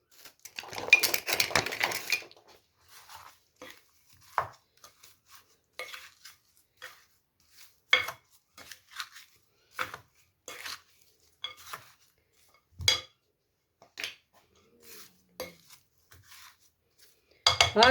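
Fish marinade with lemon juice and vinegar being mixed in a bowl, giving a dense burst of clinking at first and then sparse, separate taps and scrapes of utensils against the dish, close by.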